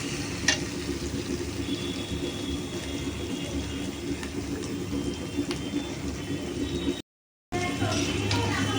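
Mutton, about 3.5 kilos, sautéing in a cooked-down spice paste, giving a continuous, even sizzle with occasional faint clinks, broken by a brief gap of silence.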